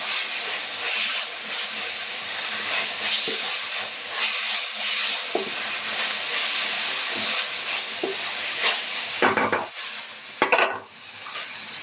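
Vegetables for Hakka noodles sizzle and fry in a pan, with steady hissing and occasional stirring scrapes and clinks of a utensil against the pan, close and continuous.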